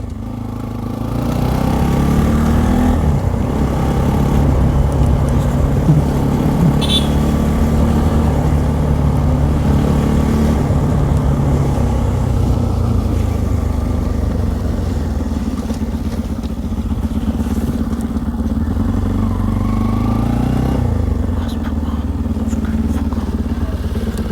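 A Bajaj Pulsar NS200 motorcycle engine runs steadily and close by throughout, a continuous low rumble with no breaks, after the bike sat unused at home for a week.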